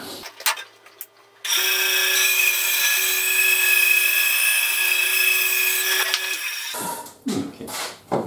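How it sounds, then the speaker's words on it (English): A bandsaw cuts a corner out of a wooden piece for a miter sled: a loud, steady whine of about five seconds, with brief handling noises before and after. "I'll do that with my bandsaw"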